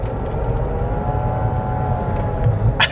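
A steady mechanical whine from a hydrogen car's drivetrain, likely the transmission, with a low road rumble while driving, fairly even throughout, ending with a brief sharp knock.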